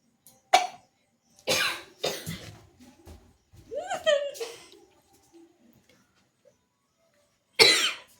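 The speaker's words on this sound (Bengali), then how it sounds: "কাশি এসে গেছে কিন্তু হাঁচি হচ্ছে।" A person coughs repeatedly from the sharp smoke of chilli burning nearby, giving several separate bursts with pauses between and a throat-clearing sound in the middle.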